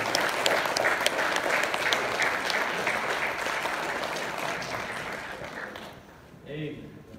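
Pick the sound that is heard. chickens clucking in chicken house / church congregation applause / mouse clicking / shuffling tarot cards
church congregation applause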